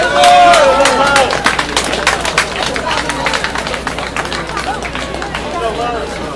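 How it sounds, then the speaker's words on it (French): Audience applause at a Montreal homeless night gathering: a dense patter of many hands clapping close by, loud at first and tapering slightly, with a brief voice near the start. "on l'applaudit"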